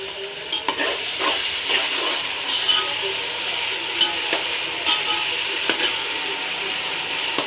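Ginger, garlic, mint and green chili paste sizzles loudly in a hot pan for mutton pulao, a steady hiss broken by scraping stir strokes, with a voice speaking briefly.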